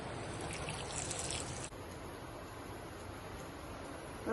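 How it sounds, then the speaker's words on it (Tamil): A steady stream of water pours and trickles into a pot for a moment, then stops, leaving a faint, quiet background. "தேவையான அளவு தண்ணி ஊற்றிக்கலாம்"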